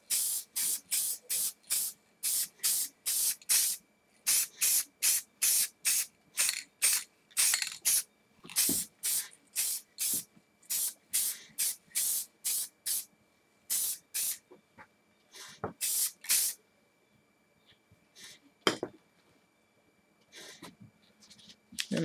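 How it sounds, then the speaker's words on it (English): Repeated short hissing bursts of a spray paint can on a helmet, many quick sprays in steady rhythm, close and loud, thinning out toward the end with longer pauses. "the good thing about spray paint is that it dries fairly quickly"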